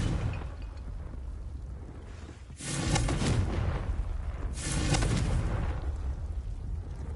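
Confringo fire spell blasts cast in Hogwarts Legacy, two loud booming bursts with crackling tails a couple of seconds apart over a steady rumbling game background.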